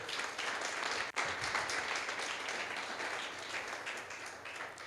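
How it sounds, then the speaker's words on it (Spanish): Steady applause from a church congregation, dense clapping that carries on throughout, with a brief dip near the start before continuing evenly. "Dale un aplauso al Señor, por favor."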